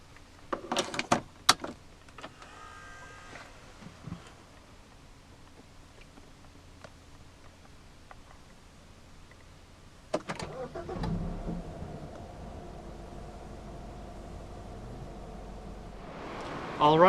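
A 2015 BMW Z4 sDrive20i starts with the door closed: a few clicks and thumps, then the engine cranks and catches, settling into a low, muffled idle that holds steady before a brief swell at the end.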